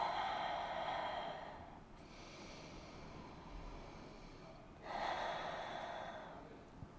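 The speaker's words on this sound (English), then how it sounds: "Take a couple of really full, strong breaths." Full, strong breaths taken during a morning yoga flow: two long, close breaths, one at the start and one near the end, with a quieter pause between them.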